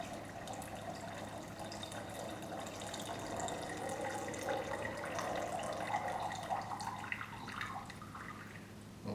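Tap water runs steadily over gold precipitate while it is rinsed in a beaker during a chemistry process, a continuous hissing splash with faint dripping and no talk.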